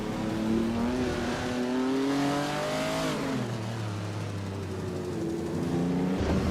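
Race cars roar and rev near and loud in a racing video game at the Autodromo Lago Maggiore GP circuit, engines rising and shifting steadily with no voice over them.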